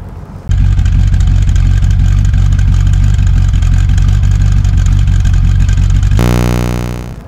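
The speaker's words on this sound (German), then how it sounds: "Der bubbert schön, hat einen tollen Sound, der amerikanischen 8-Zylinder." A 1965 Iso Grifo prototype with an American V8 idles loud and close, a deep, steady burble with a rough, pulsing low rumble that holds evenly, then rises briefly in pitch before cutting off.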